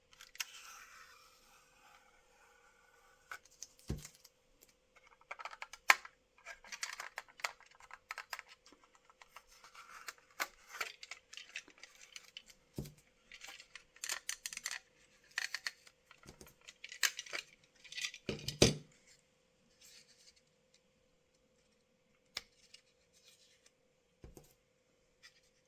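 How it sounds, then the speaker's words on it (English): Masking tape is peeled off a Corgi Original Optare Delta model bus, with quiet, close, crinkly rustles, tugs and scattered small clicks coming in irregular bursts with pauses between them. A faint steady hum sits underneath, and no one speaks. "I'm going to take all this masking tape off."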